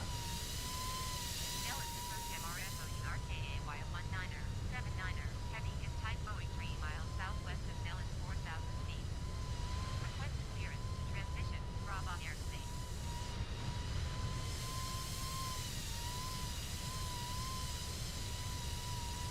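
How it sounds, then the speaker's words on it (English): Faulty airplane engine in the video game Microsoft Flight Simulator, a steady droning hum with a wavering tone throughout, while a person talks over it intermittently. "Dude, something's wrong with my engine."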